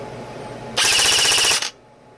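A Silverback PP19 airsoft gun fires one loud, rapid full-auto burst of evenly spaced shots for just under a second during a rate-of-fire test, then stops abruptly.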